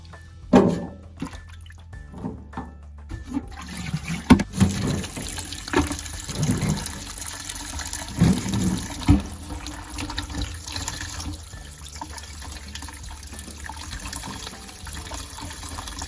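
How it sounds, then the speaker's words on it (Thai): Fresh small Japanese garlic bulbs being rinsed under a running kitchen tap. A steady stream of water splashes and trickles for a long stretch, with some handling clatter near the start and no talking. "ก็มาล้างทำความสะอาดสักสองสามน้ำเนาะ"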